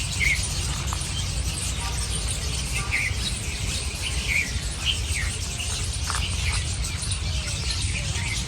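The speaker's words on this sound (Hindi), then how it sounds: "आपको मतलब चिड़ियों की चहचहाहट की आवाज़ आ रही होगी" Birds chirp in a city park at Jawahar Circle in Jaipur, scattered faint tweets over a steady outdoor hum.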